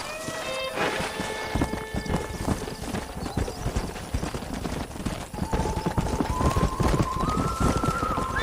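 Hooves clip-clop rapidly as horses gallop in the video game Red Dead Redemption, with a brief whinny early on and a steady tone rising later, busy and close.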